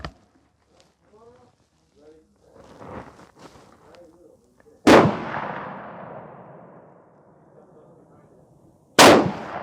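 Two sharp, loud Tikka T3 CTR rifle shots crack several seconds apart outdoors, each followed by a long rolling echo, after quieter handling noises and faint movement.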